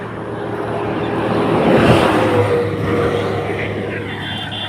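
Cars passing on a road after sudden rain, a broad rushing swell that rises toward the middle and fades, with a steady low hum beneath and no talk.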